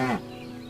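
A cow on a farm being milked gives a short, loud, close moo that fades away within a fraction of a second, leaving a low background hum.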